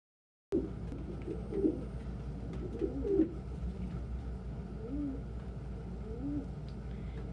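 Pigeons coo in soft, repeated low bursts over a steady background hum, each call rolling and throaty, spaced a second or two apart at moderate distance.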